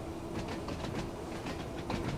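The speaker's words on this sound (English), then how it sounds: "the jointed track sounds are really nice on this" An old tube train in Train Sim World 2 on the Island Line rolls along jointed track with a steady rumble and repeated rhythmic clicks of wheels over rail joints, at moderate volume.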